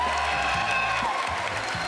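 A crowd at a Bethesda game showcase breaks into cheering and applause, a dense continuous roar of clapping and shouts that stays loud throughout the short burst.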